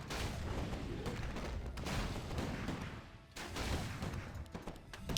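Orc mortar team artillery in a Warcraft 3 tournament match fires in dense, rapid volleys of booming blasts that overlap into a continuous rumble, with a short lull midway before the barrage resumes.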